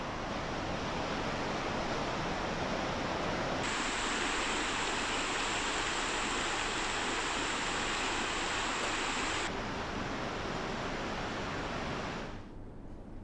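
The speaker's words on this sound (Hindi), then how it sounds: "रुद्रप्रयाग में अलकनंदा नदी खतरे के निशान को पार करते हुए बह रही है।" Alaknanda river in flood at Rudraprayag, running above the danger mark, a loud, steady roar of rushing water filling the whole clip without pause, with no voices.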